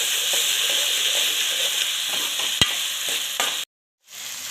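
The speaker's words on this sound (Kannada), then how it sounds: "ಇದು ಚೆನ್ನಾಗಿ ಫ್ರೈ ಆಗ್ತಾ ಇದೆ" Food fries in a pan with a steady, loud sizzle, broken by a sharp tap and a few scrapes before a sudden brief silence, while making North Karnataka-style stuffed eggplant.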